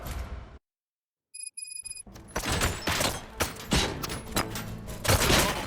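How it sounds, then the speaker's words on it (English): Gunfire in the RoboCop Rogue City video game: after a brief silence and an electronic beeping, a rapid fusillade of loud shots breaks out and keeps going in dense bursts. "Gunshots?"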